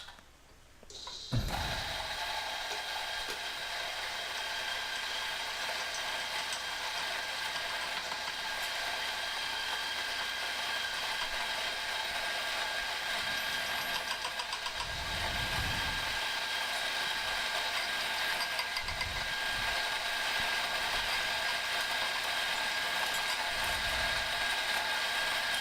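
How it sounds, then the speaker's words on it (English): A coffee grinder running on a very fine Turkish coffee setting, a steady mechanical whirring grind that starts abruptly and continues loud and close, with occasional low thumps underneath. "So just a note on grinding with a grinder such as this."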